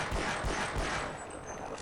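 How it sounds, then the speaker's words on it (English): Pistol fire from Half-Life aimed at a barnacle, a cluster of sharp, loud gunshots packed close together in quick succession over a steady, noisy game background, with no speech. "we'll use the pistol to kill this barnacle"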